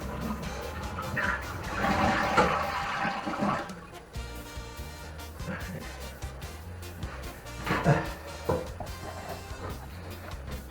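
A porcelain toilet flushes after a new wax ring has been fitted. Water rushes loudly at first, then settles into a steady refilling hiss and gurgle, heard close up with no voices.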